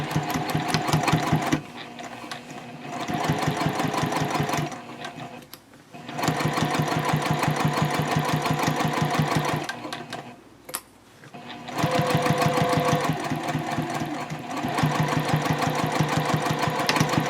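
A sewing machine fitted with a piping foot stitches at a 2.5 stitch length while making a bowler bag, running in steady, fast bursts with several short pauses between runs, close and fairly loud.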